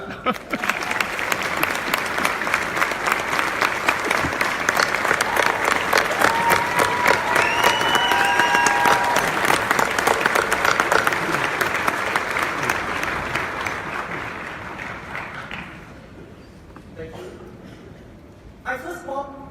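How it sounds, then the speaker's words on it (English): Sustained applause from a large crowd at a YMCA expo keynote in Denver, greeting a guest speaker; dense clapping swells and holds for about fifteen seconds, then thins out into scattered claps and faint voices. "stand up and give a big round of applause for Mr."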